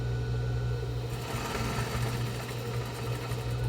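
A sewing machine backstitches through the fabric of a box-style face mask, its close, loud motor whirring with a rapid steady needle rhythm that runs without pause and without talk.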